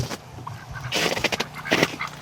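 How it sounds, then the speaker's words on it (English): Muscovy ducks honk and hiss nearby in a few short, breathy bursts on a cold day, separated by brief pauses, with no talking. "Hey guys, you silly ducks."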